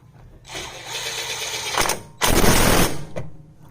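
Hand-tightening the brake caliper bolts on a 2006–2012 Mazda CX-9 during a front brake pad and rotor job, with a ratchet clicking in steady bursts. A louder, denser run of clicks follows a short pause.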